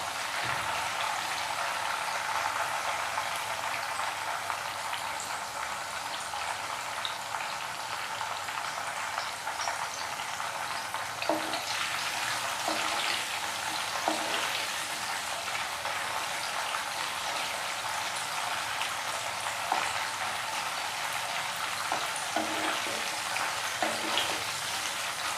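Banana chips frying in hot oil, a steady, even sizzle with soft bubbling and faint pops that carries on throughout, close and moderately quiet with no voices.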